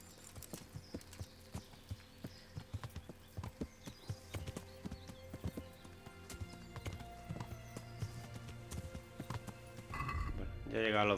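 Horse hooves clip-clop in a steady rhythm while riding in the medieval game Kingdom Come: Deliverance, close and clear over faint ambient music, briefly joined by a snort near the end.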